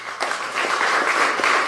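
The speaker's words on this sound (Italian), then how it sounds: "signor Raison Santos de Nascimento, un forte applauso." Audience applause at a panel event in Aruba, a brief burst of dense, steady clapping from a crowd lasting under two seconds.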